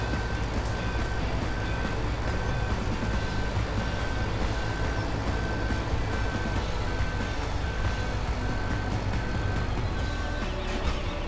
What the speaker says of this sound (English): Because the unit's going in reverse on the map, the backup buzzer is going off